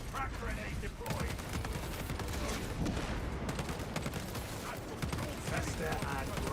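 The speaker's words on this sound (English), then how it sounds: "Readying next volley. Crack grenade deployed." A crack grenade going off amid bursts of gunfire in a combat video game on a test server, dense continuous shooting and mechanical clatter under a voice.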